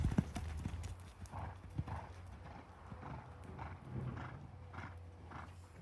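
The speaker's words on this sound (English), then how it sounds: "I thought I'd include this little clip of this horse lunging" A horse's hooves thud in a steady, rhythmic beat while it lunges, with some distant ambience around it and a snort or faint whinny near the end.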